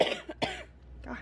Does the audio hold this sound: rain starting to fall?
no